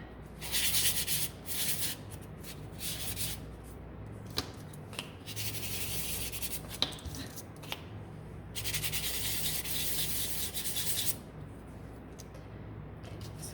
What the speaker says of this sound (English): Just going to give them a sand.